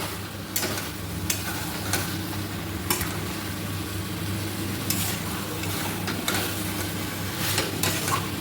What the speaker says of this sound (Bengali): তো যেহেতু আমি এখানে চিকেন কষা করছি